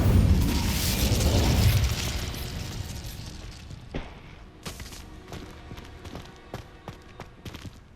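A fire spell cast in the Hogwarts Legacy video game lets out a loud whooshing burst that fades over a couple of seconds, followed by a scatter of sharp pops and crackles.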